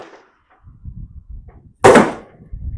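A flintlock rifle fires a single loud, sharp report of most of a 90 grain 2F black powder charge. The shot follows quiet low rumbling and is followed by a brief low rumble.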